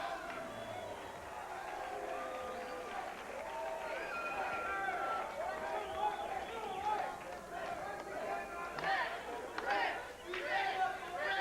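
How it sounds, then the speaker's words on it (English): Wrestling fans in an arena crowd cheer for Paul Orndorff at a UWF event, a continuous, moderately distant roar of voices and babble that swells toward the end, with a commentator talking over it. "Fans are cheering for Orndorff."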